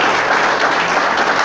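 A church congregation applauds in a dense, steady wash of clapping that fills the space and holds an even loudness from start to finish.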